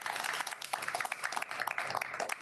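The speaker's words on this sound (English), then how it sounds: "Let's give another round of applause." A seminar audience gives a round of applause for a speaker on smart mobility, a soft, fairly distant patter of many hands clapping at an even pace for a couple of seconds.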